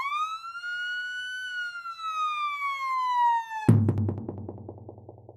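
An ambulance siren wails loudly in a long, slowly falling tone, then cuts abruptly into a rapid, pulsing yelp pattern with heavy low engine rumble underneath.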